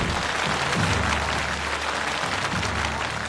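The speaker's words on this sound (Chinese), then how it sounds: "掌声同样响起" Audience at a televised comedy sketch competition breaking into steady, full applause after scores are announced, a continuous dense roar of clapping without speech.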